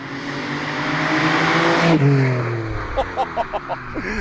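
A Nissan R32 Skyline GTR with a regular front pipe, catalytic converter and no-name exhaust roars past, revving loudly, then drops off sharply, followed by a few rhythmic pulses of engine burble.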